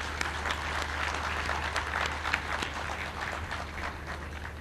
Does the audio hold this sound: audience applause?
yes